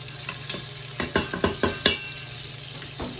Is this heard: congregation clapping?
no